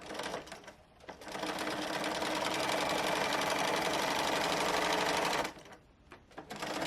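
A sewing machine runs steadily for several seconds stitching a scalloped border on chair reupholstery fabric, a dense close whirring with brief starts and stops at either end.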